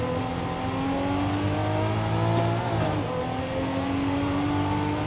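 A 2022 Cadillac CT4-V Blackwing engine in Forza Horizon 5 drones and revs steadily, its pitch rising and falling slightly, loud and continuous with no talk.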